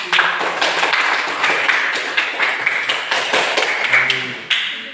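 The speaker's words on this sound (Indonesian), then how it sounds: "Berikan aplaus untuk" Scattered classroom clapping from students after group work, a loose burst of quick claps, fairly close and moderately loud, ending with a final sharp tap.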